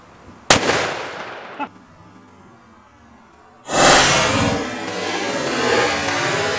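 A Ruger American Ranch rifle chambered in 450 Bushmaster fires one sharp, loud shot outdoors into a modeling clay target. Brief crackling debris follows, then a loud burst of wind-like noise.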